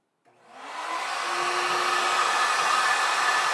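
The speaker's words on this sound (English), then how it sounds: "about ready to turn on the vacuum, and let's get cutting" Workshop vacuum switched on before cutting, rising from silence into a loud, steady whooshing whine that holds constant and close, with no talk.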